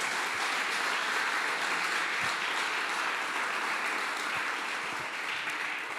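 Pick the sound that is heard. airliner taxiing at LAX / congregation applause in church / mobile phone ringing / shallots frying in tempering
congregation applause in church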